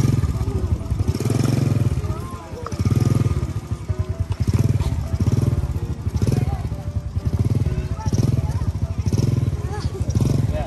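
A motorcycle engine revving repeatedly with the throttle opened in bursts, loud and close with a rapid pulsing rumble, while people talk over it.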